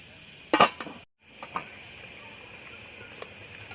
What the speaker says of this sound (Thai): ไปครับปิดฝาเราให้มะเขือสุกครับ